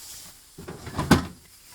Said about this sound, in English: And we're going to close the fridge door.